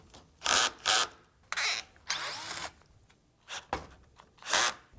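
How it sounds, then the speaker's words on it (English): Power driver running T30 screws in and out of plastic radiator mounts on a 2015-2018 Porsche Macan, with several short, close whirring bursts separated by pauses. "we are going to remove the screws on the bottom of these mounts here, and then transfer these over to our new radiator."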